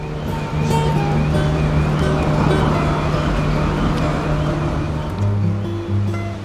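Water pours over a weir on the River Dee in Chester, built to power corn mills, giving a loud, continuous rushing roar with steady hum, and a vehicle tone passing near the end.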